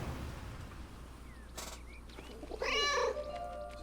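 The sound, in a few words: cat meowing in video game 11-11: Memories Retold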